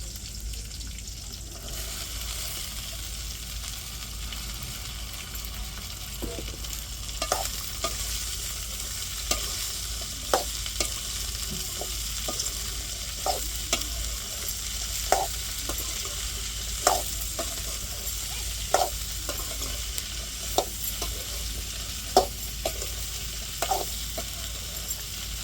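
Okra (lady's finger) stir-fries in a pan with a continuous low sizzle, punctuated by regular scraping taps of a spatula every second or two.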